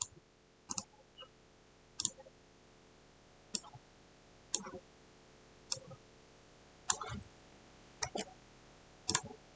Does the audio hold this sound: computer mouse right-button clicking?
yes